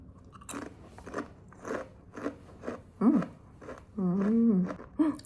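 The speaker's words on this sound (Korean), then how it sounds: "이것도 한번 먹어보겠습니다. 이건 엄청 얇은 코코아 쿠키 같은 거에 마카다미아가 되게 많이 박혀요." Crisp bites into a very thin cocoa cookie studded with macadamia nuts, bought in Hong Kong, give a run of close crunches followed by chewing, with a voice briefly humming and murmuring between them.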